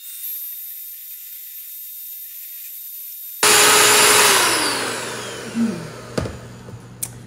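After a silent start, an electric mixer whipping batter for protein-sparing pretzels switches on with a sudden loud whir, then its pitch slides down as it runs on, with a few clunks near the end.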